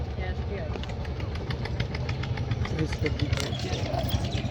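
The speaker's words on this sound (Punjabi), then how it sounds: "ਹੋ ਗਿਆ ਟਰੈਕਟਰ ਆਈ ਜਾਂਦਾ ਅੱਗੇ" A tractor engine runs steadily throughout, a constant low rumble with rhythmic knocking close by, while people talk nearby over it.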